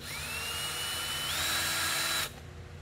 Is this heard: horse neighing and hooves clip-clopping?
no